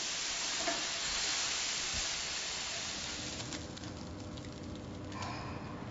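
Beef for stroganoff sizzling in a hot pan, a dense, even hiss that holds steady and close throughout, with no voices.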